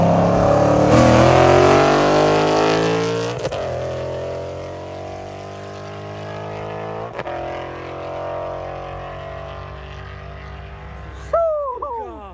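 Revving engine at a car meet, likely a Pro Charge Mustang, loud and close, with sharp gear shifts marked by abrupt pitch drops and rising sweeps across the run, ending in a high squealing rev burst.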